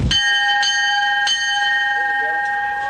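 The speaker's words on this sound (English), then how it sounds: "When that bell rings, it resonates through the courtyard here" A bell in a courtyard rings with a sharp strike followed by several more, its bright metallic tones lingering and resonating between hits.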